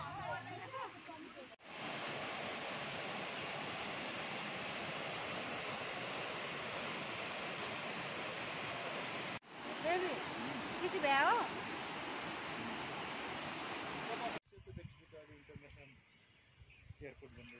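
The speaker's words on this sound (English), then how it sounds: "Davies Fall is a fascinating waterfall which drops into a cavernous gorge." Davis Fall near Pokhara plunges into a cavernous gorge, heard as a steady, dense roar of falling water that fills the air. The roar cuts off abruptly at moments and changes character toward the end.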